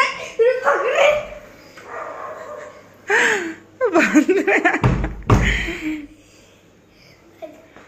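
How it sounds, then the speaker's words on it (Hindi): A dog barking in a household, several high yelping barks mixed with excited voices and laughter, with a loud thump in the middle. "कुत्ता भौंक रही"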